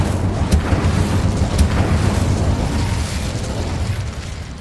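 Incendio fire spells cast in Hogwarts Legacy burst out as loud, close, booming blasts, with a couple of sharp pops over a rumbling, continuous fiery roar.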